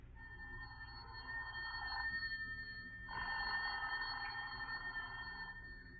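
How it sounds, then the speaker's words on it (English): A telephone rings twice in a radio-drama home scene, each ring a sustained buzzing trill of about two seconds, fairly faint over a low background hum. "The telephone is ringing in the home of Mr. and Mrs. Theodore Bonner."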